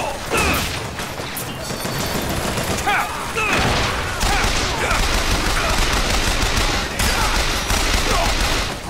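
Rapid automatic turret gunfire roars through a BioShock Infinite battle, dense overlapping bursts mixed with impacts and crashes, loud and continuous, while game characters talk over the shooting.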